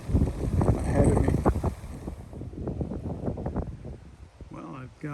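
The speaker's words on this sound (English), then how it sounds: "And it is quite windy." Wind buffets the microphone in low rumbling gusts, loudest at first and then easing, with a voice speaking faintly beneath it.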